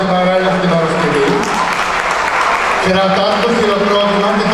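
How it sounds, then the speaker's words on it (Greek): A festival audience applauds loudly and continuously, with a dense clatter of clapping. Voices and music sound underneath it, and the texture shifts partway through. "Κρατάμε το χειροκρότημα"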